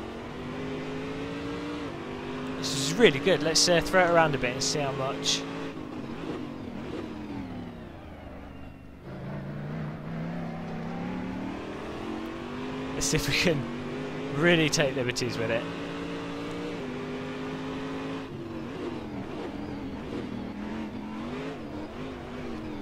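A Corvette DP race car in the Assetto Corsa racing simulator, its engine droning and climbing through repeated revving upshifts with sharp gear-change dips, loud and close while someone talks over it.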